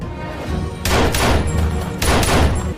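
Film gunfire as terrorists shoot at a special forces team: two heavy bursts of rapid shots crack out loud and close over a dense, rumbling action soundtrack.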